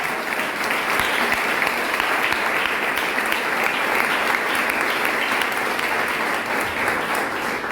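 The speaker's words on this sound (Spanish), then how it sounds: "Den ese aplauso al Señor." Sustained applause from a church congregation during a Spanish-language sermon, a steady dense wash of clapping that fills the whole stretch at close, even loudness without a break.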